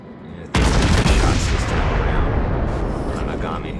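Warship guns fire in a close-range naval battle in World of Warships. A sudden, massive blast breaks out of relative quiet, then a long, thunderous rumble decays slowly, with a voice talking over it.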